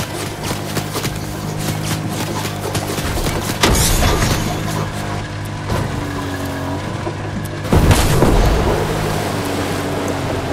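Gunfire hits a car in a driving shooter video game while the engine drones steadily; two sharp bursts of impacts stand out near the middle and toward the end over the continuous vehicle noise.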